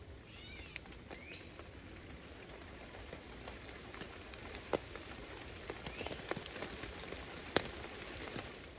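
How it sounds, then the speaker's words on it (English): Light rain falling through wet woodland at a wild camp, a soft continuous patter with scattered nearer drops tapping on a tent or leaves, quiet and even throughout with no talking. "Yeah, it's definitely raining, but it really hasn't come down heavy through the woods yet, but I'm sure you can hear it"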